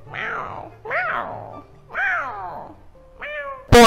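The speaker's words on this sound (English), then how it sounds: "my cat literally just came up to me and as she was meowing" A cat meows three times in drawn-out rising and falling calls close by, followed by a shorter higher meow and an abrupt loud burst at the end.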